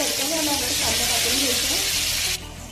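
Cumin and mustard seeds sizzle loudly in hot oil for a vegetable dish, a steady bright crackling hiss that drops abruptly near the end.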